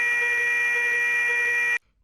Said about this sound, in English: If any signal becomes blank, GXJR drops, which activates the signal failure buzzer and lights up the signal failure indication on the panel.